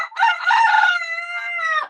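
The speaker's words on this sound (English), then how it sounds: "as you hear the bowl and bird song" A rooster crows once, close and loud, in a long drawn-out call that rises, holds, then falls away into silence.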